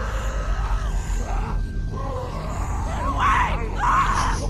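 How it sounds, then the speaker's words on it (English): In The Walking Dead video game, a girl screams and cries out in a few strained, rising bursts, growing louder toward the end over a low rumbling background, mixed with groaning vocal sounds. "What the hell is that? A walker? Walkers don't scream, do they?"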